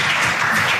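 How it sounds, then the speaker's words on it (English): Studio applause from a small audience, a brief burst of steady clapping at moderate volume with no voices over it. "Big hand of applause."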